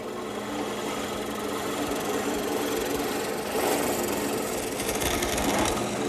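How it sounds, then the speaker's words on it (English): Drill press boring holes through four ganged sheets of plywood in a workshop, a continuous motor whine under rough, grinding cutting noise that swells midway and again near the end. "I'll just drill all the holes here at the drill press."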